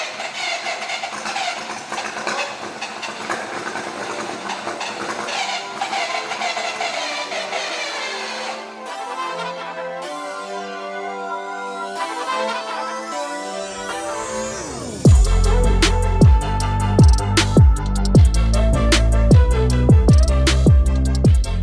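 A 3-rotor Mazda RX7 engine cranking long and rhythmically with whirring starter tones, then catching and bursting into a loud, raspy, pulsing rotary idle that carries on strongly to the end.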